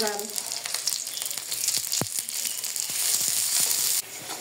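Chopped raw onion fries in hot oil in a pan with a steady, fairly close sizzle, broken by scraping stirs and a few sharper clicks of the spoon against the pan.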